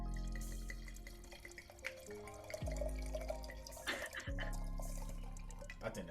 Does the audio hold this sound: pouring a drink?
yes